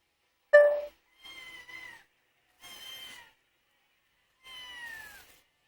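A cat meows four times in short, separate calls. The first is louder and sharper, and the three that follow are softer and more drawn out, with quiet pauses between them in a still room.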